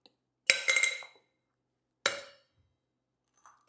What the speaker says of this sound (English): So let's go ahead and add 2 ice cubes to the bigger tin.